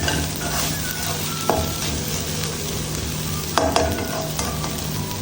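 Chicken pasta sauce sautés in a pan with a constant loud sizzle, broken by a couple of brief spoon scrapes and clinks against the metal.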